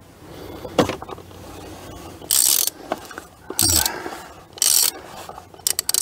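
A ratchet tool clicks in short bursts while a part is unscrewed during a service of a Citroën Evasion 2.0 HDi 110 hp diesel with oil and filter change. The mechanical clicking is close and separated by brief pauses.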